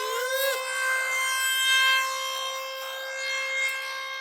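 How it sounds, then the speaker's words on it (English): Ohio, USA emergency alert system siren wails loudly and steadily, a harsh tone with many stacked harmonics that dips briefly at the start and then holds, sounding alone throughout. "Our next alarm comes from the United States of America."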